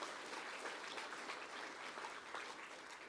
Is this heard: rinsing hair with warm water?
no